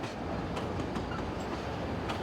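A train on the Emu Bay Railway in Tasmania, an ore line running from the West Coast mines, rumbles steadily at moderate distance, with a continuous low roar and faint wheel clicks throughout.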